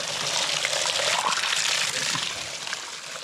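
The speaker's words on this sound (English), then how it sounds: "Fresh spring water." Fresh spring water flowing in Oregon, a steady broadband rush and trickle of running water heard close and continuous throughout, with no voices over it.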